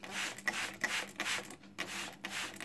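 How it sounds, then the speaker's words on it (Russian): Short bursts of a spray bottle misting water onto apple seeds come close and faint, a series of soft hissing squirts of uneven length repeated several times. "Звук, конечно, неприятный будет, если сейчас брызгочка"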